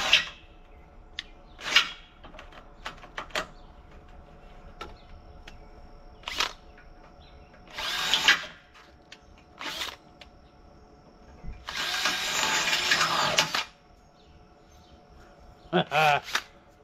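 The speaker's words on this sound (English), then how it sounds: "so we're gonna drill them out" A power drill boring bolt holes in metal on a boat trailer converted into a portable watering station, running in several separate bursts of whining motor and bit grind, the longest lasting about two seconds, with short mechanical clicks and handling noises between bursts.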